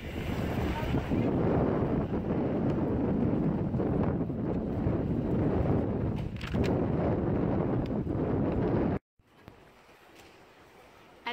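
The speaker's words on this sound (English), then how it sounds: "Oh, it's so windy." Strong wind buffets the microphone outdoors in a small town near a stone bridge, a loud continuous roar with gusts for about nine seconds before dropping suddenly to a quiet background.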